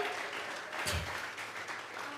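Brief congregation applause during a Sunday church service, a steady wash of clapping with one louder thump midway, heard without speech.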